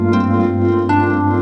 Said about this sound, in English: I'm gonna plug my harp into the BL-52